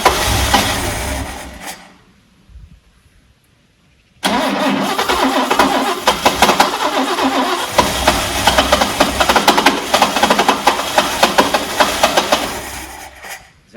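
A classic Mercedes Fintail car's engine cranks loudly and then dies away, followed by about two seconds of near silence. It then bursts back into a rough, steady running roar that continues to the end.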